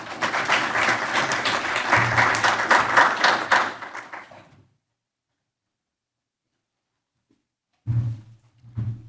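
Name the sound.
audience applause welcoming a conference speaker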